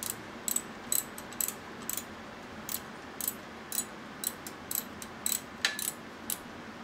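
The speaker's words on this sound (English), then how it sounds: "I actually have to work it through with the ratchet." A hand ratchet works a bolt through the motor mount of a 1979 Harley-Davidson 93ci Shovelhead, giving a steady series of small, crisp clicks close by in a quiet shop.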